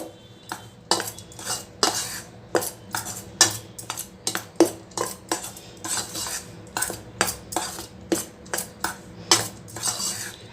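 Rice flour stirred together with peanut powder, gram powder and cardamom in a metal vessel, a spoon scraping and clinking against the sides in steady repeated strokes, close and clear with no talking.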